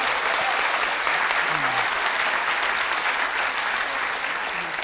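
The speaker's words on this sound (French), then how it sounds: "On peut applaudir." A crowd at a strike rally backing striking incinerator and energy workers applauds loudly, a dense, sustained wash of clapping that holds steady before thinning slightly at the end.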